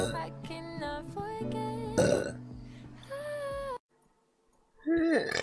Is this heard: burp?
yes